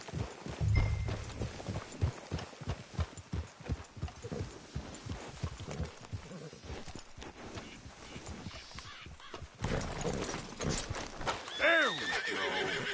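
Horses in Red Dead Redemption 2 give steady clip-clopping hoofbeats and a whinny, with game sounds around them.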